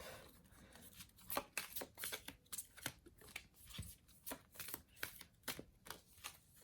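A card drawn and placed during a tarot-style card reading, a sequence of soft, close papery slaps and shuffles in irregular bursts, faint but clear, with no talk over it.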